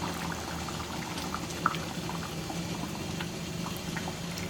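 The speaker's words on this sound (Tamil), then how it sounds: "இன்னும் ஒரு 2 நிமிஷத்துக்கு நல்லா கொதிக்கட்டும்" Tomato kurma simmers and bubbles steadily in a pot, with a soft continuous burble and scattered small pops at close range, and no voices.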